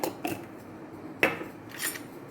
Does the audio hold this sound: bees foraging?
no